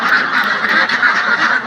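Ailing farm ducks calling loudly and continuously, a dense, close chorus of nasal honking quacks with no talk.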